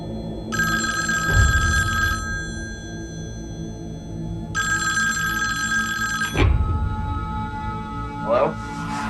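Telephone ringing in two long electronic bursts with a pause between, over low background murmur and a couple of thumps, then a short chirp near the end.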